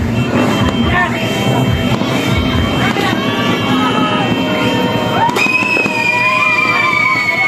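New Year's Eve fireworks and firecrackers in Quezon City, Philippines, bursting loud and close in rapid crackling volleys, with whistling rockets rising toward the end and people shouting nearby.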